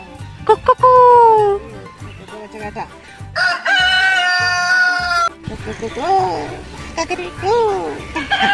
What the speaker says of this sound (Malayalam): അത് മുട്ടയിടണ പിടക്കോഴി.